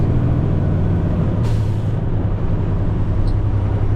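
A truck hauling a full 20-foot shipping container rumbles with a loud, steady low engine drone, broken midway by a short hiss of air brakes releasing.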